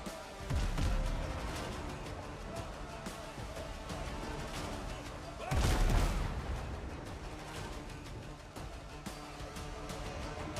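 Ship cannons fire in the video game Windrose to sink a vessel, two heavy, booming shots several seconds apart, rising above a dense, continuous bed of game sound.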